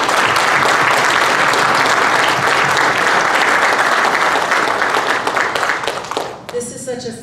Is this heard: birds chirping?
no